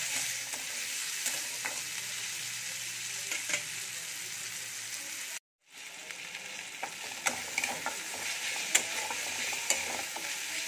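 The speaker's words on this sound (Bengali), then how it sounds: "এবার নুন দিয়ে গ্যাসের ফ্লেমটা কমিয়ে মশলাটা কষিয়ে নেব।" Spice paste with onion, tomato, green chili and salt sizzles in a pan over a low gas flame, with repeated spatula stirs and scrapes over a steady fry and a brief silent gap midway.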